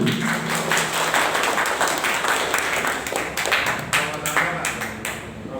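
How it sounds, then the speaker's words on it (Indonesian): Applause at an Ansor leadership training gathering, a steady patter of many hands clapping together, with voices talking over it. "Tepuk tangan untuk Pak Reksi"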